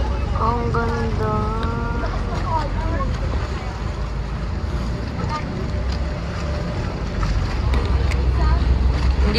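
Wind and waves roll past a boat on an island-hopping tour in El Nido, a continuous broad rush of water and gusting air with the boat's hum beneath, while a voice sounds briefly at the start.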